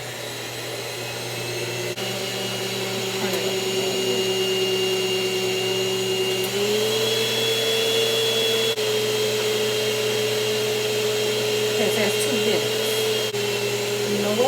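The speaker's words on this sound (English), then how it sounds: "I'm going to turn on my mixer." Electric kitchen mixer beating Jell-O poke cake batter, a steady, close whirring hum that holds constant throughout with a slight pitch shift partway through.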